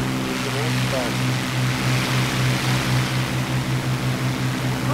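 A P-40F-10 fighter plane engine in the War Thunder video game drones with a steady, loud, throbbing propeller hum that continues throughout.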